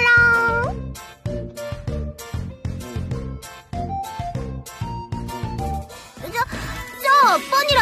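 A voice imitates a cat, with a short rolling purr followed by a run of loud, close, expressive meows in quick succession.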